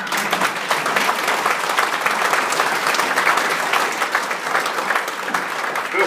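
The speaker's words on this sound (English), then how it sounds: "Feel free to clap when you hear something like that" Sustained applause from an audience at a city and county address in Cullman, Alabama: dense, even clapping from many hands that holds steady for several seconds with no speech over it.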